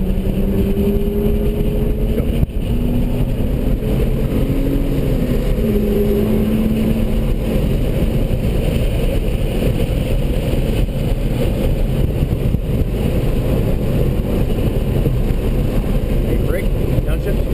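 A BMW accelerates on the Streets of Willow race track, its engine a loud, continuous drone that hums on throughout, with a faint rising tone early on and heavy in-car rumble and noise.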